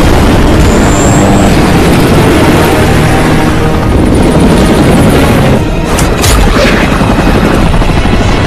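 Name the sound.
helicopter in film action scene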